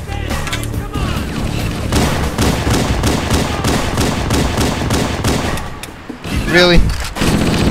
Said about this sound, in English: I'm just shooting at him